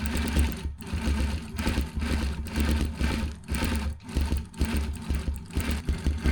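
A Gammill longarm quilting machine zigzag-stitches a Harley T-shirt quilt with a continuous, close, rhythmic mechanical chatter and a deep motor hum that pulses slightly as it runs.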